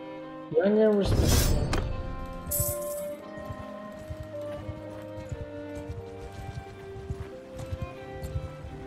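Rhythmic hooves clip-clopping over a steady game soundtrack, following a loud burst and whinny at the start; talk murmurs faintly underneath.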